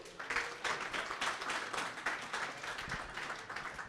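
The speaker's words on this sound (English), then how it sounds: "a round of applause for yourselves" Meetup audience applauding together, a dense steady patter of many hands clapping at moderate volume for the full length, with no talk over it.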